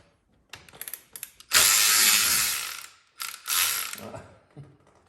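A wrench ratcheting on a sprocket bolt of an Aprilia Tuareg 660 motorcycle, first a few short clicks, then two longer bursts of rapid, close clicking with a pause between.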